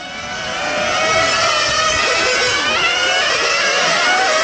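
A 1/8-scale on-road nitro RC car engine at a racing event in Leno, its high-pitched whine climbing and holding as the car accelerates, loud and close with several overlapping engine tones and no talk.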